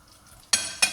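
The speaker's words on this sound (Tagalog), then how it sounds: "Ayan, haluin mo. Hanggang sa mag-golden brown yung bawang." Garlic frying in melted butter as it is stirred with a utensil, for butter shrimp: a quiet pan hiss broken by two sharp scraping stirs in quick succession.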